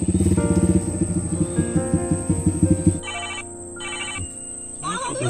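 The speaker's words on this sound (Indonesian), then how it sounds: "Telepon niku." A phone ringtone plays a rapid, repeating electronic melody, close and clear, then shifts to a sparser beeping pattern toward the end.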